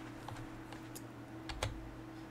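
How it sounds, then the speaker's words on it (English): A console command is typed on a computer keyboard while playing ARK Extinction: a faint, uneven series of soft key clicks close to the mic, with one slightly firmer press near the end. "Then you type in walk, and you're walking again."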